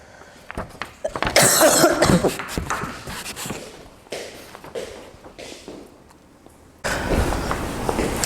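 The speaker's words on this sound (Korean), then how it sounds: "선생님이 자꾸 기침이 나와가지고 잠깐 끊었어요" A teacher coughs in several close bursts during a maths lesson, interspersed with shuffling and tapping noises, and a rougher stretch of noise near the end.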